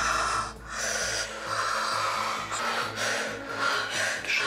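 Heavy, rhythmic breathing during simulated labour, repeated forceful breaths and snort-like exhales up close, loud and without any speech.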